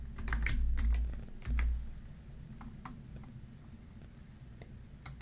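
Key presses on a computer keyboard while typing a search word into a picture library, a short run of light irregular taps starting off the clip with quiet hum carrying on after them.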